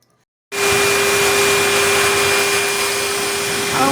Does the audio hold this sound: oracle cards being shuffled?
no